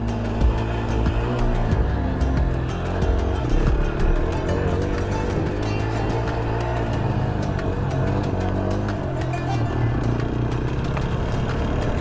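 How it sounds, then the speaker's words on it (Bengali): TVS Apache RTR 160 4V motorcycle ridden across an open field, its steady engine drone continuous and close throughout with light rumble and no speech. "একটুখানি এই বাইকটা মাঠে চালিয়ে দেখবো কীরকম কমফোর্টেবল লাগে আমার।"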